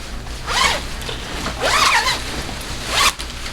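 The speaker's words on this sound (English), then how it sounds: "It's a zip out lining." Lining zipped out of a BRP Can-Am riding jacket: three bright, rasping zipper pulls, each under a second long, close and fairly loud with short pauses between them and no talking.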